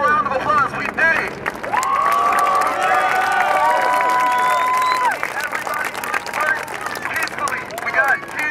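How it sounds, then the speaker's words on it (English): Protest crowd in downtown Los Angeles applauding and cheering outdoors, dense clapping and shouts mixed with a loud sustained whistle or siren-like tone and nearby voices throughout. "Everybody give a round of applause."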